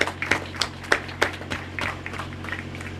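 Scattered hand claps at a product certification event for the Guyana National Bureau of Standards, a short, thin round of applause with uneven individual claps that tapers off.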